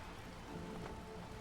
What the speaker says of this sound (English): around you, rain keeps falling down